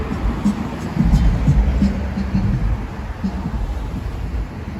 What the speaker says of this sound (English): it is quite windy tonight